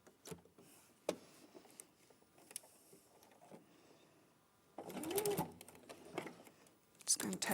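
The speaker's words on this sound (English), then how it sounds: "you're just going to sew over that bit as well" A domestic sewing machine stitching fabric, with short mechanical whirring runs broken by pauses, and a louder sustained burst of stitching later on, heard close while people talk over it.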